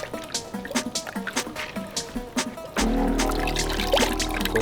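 Water pours and trickles onto a microfiber towel for car detailing, starting as scattered splashes and drips, then becoming a steady close, louder stream.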